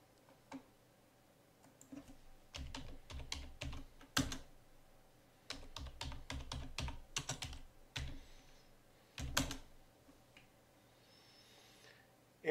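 Keys on a computer keyboard clatter quietly in quick bursts of typing separated by pauses while code for Django tests is written. The taps are soft and close in an otherwise quiet room.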